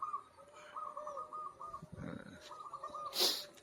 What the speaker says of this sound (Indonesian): itu bunyi itu burung perkutut saya itu